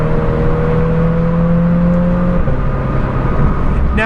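A supercharged, modified 2017 Toyota 86 engine holds a loud, steady high-revving drone from inside the cabin, then its pitch drops partway through, with a brief rising whine at the end.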